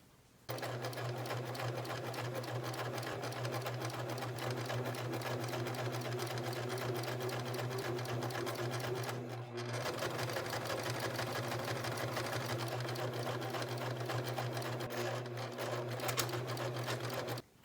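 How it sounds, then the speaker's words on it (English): A sewing machine stitches a folded fabric strap for a backless crop top, running in a steady, fast mechanical whir close by, with a brief pause midway. "now I'm going to sew the entire strip as close as I can to the edge"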